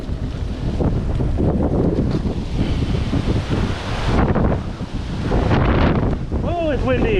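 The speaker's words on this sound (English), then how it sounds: "Whoa, it's windy." Strong gusty wind ahead of a storm roars and buffets the microphone outdoors on a mountain bike trail, with steady loud rumbling and brief lulls, and a voice speaks near the end.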